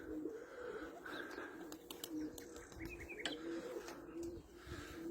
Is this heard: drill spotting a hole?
no